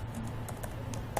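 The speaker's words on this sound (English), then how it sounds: "here I type" Brief light keyboard typing, a few soft key taps over a steady low hum and background hiss, close but faint.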